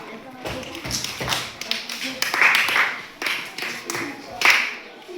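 A classroom of students clapping for a classmate in a short, uneven burst of applause, with voices talking over and around the claps.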